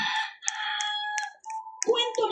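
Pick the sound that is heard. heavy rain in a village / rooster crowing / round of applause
rooster crowing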